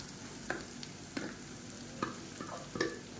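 Mashed plantain fries in oil with golden-browned onion, a faint steady sizzle broken by several sharp stirring scrapes and clatters at irregular intervals, with no talking.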